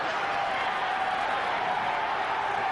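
A boxing arena crowd roars steadily during a heavyweight title bout featuring Larry Holmes, a dense, continuous wash of voices and cheering with no distinct breaks.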